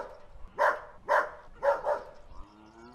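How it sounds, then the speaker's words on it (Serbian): A dog on a farm barks four times at a moderate distance, two single barks followed by a quick pair, each short and sharp with brief quiet gaps between them. "pa to je le chien. Le chien, pas."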